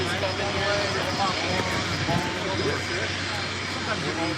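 A Southwest Airlines jet at LAX produces a steady, loud engine roar that fills the whole stretch, with people talking over it.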